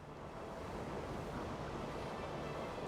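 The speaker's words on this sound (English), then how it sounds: "The water's rising, Joey." Rising water in a retro console Yu-Gi-Oh video game makes a steady, dense wash of rushing, surf-like noise that stays even and continuous, with no talk over it.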